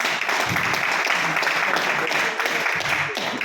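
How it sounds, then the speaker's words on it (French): A church congregation applauds during a French-language Sunday service, a dense, steady wash of many hands clapping that continues at full strength throughout, with voices mixed faintly underneath. "Ce nous pouvons l'acclamer"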